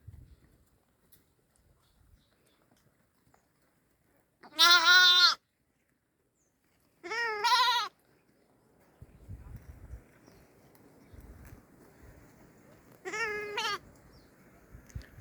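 Lambs from a day to a month old bleat in a pen shaded with green matting and iron fencing: three separate, clear cries spaced several seconds apart, with quiet shuffling noise between them.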